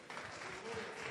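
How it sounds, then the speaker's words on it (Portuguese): A church congregation applauds the Lord in worship, a steady wash of clapping from many hands in a reverberant room, moderately distant and continuous. "Um forte aplauso ao Senhor, igreja."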